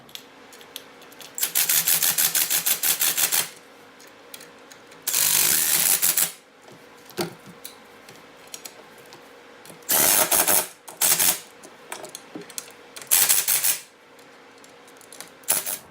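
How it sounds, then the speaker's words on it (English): Short shifter bolts and nuts are tightened in bursts of fast ratcheting clicks, several separate runs of close rapid clicking with quiet pauses between them. "we can go ahead and tighten them down."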